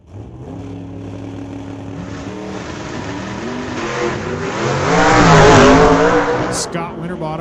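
A super shifter drag racing car makes a quarter-mile run at a sunset showdown meet, its engine rising through gear changes to a loud close roar, and an announcer speaks throughout.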